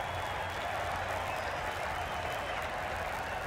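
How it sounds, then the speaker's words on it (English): A cricket crowd at an India versus Pakistan semi-final applauds in a steady, far-off wash of clapping and murmur that holds at a constant level throughout. "The crowd are really getting quite raucous."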